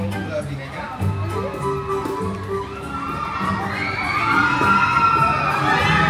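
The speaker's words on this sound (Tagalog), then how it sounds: "Yung mga sigaw." A crowd of riders screaming and cheering on a thrill ride at Hong Kong Disneyland, continuous shrill yelling that builds in intensity over a rumbling ride and chatter, loud and close.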